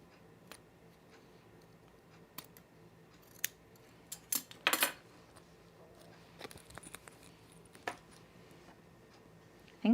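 Scissors trimming fabric for a zip hoodie, a few sparse crisp snips and ticks scattered over quiet background, with a brief louder cluster of cuts in the middle.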